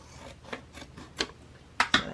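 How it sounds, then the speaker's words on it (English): Scissors cut through a folded piece of material in a few quiet snips and rasps that grow sharper toward the end, with no talking. "I'm just going to fold it and then cut it"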